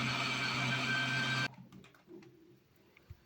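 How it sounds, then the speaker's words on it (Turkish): A food processor blitzes garlic and two medium onions for raw çiğ köfte, a dense loud whirring for about a second and a half that cuts off abruptly, leaving faint kitchen clatter behind. "Daha sonra şöyle güzelce robottan geçirelim."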